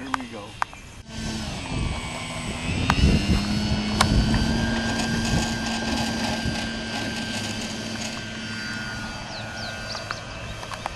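An electric Slowpoke model airplane flies its maiden test flight, a thin, steady motor whine that holds its pitch, heard outdoors under people talking, with a few sharp clicks near the start.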